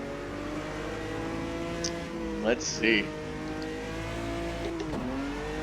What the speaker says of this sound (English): This is some sort of Brazilian stock car.